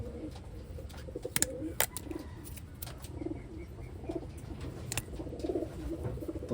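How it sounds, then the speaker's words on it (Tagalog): Taiwanese Wantai pigeons cooing inside a box, soft repeated low coos close by, with scattered rustles, clicks and light bumps throughout. "I-open natin mga kalapatids."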